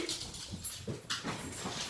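A dog whimpers indoors at breakfast time in a home, soft whines and small cries repeating across the moment over light background noise, close by and fairly quiet.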